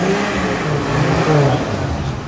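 A Jaguar XJ-S in original race colours revs briefly at an evening car meet, its engine rising and falling loudly nearby amid general outdoor noise.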